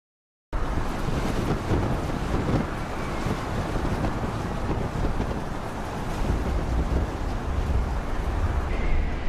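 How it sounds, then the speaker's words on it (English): Storm waves and strong wind batter a giant cargo ship carrying timber at sea, a dense roaring wash of water and gusting air that starts abruptly and holds loud and unbroken, with deep surging swells underneath. "These waves are quite powerful and high."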